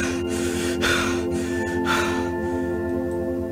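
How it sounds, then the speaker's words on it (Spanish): Strained, laboured breaths rasp in and out in slow heavy pulses over a constant electronic hum, with no words spoken. "Solo escucho una respiración muy extraña, como si le costara hacerlo."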